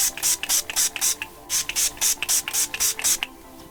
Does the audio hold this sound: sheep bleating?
no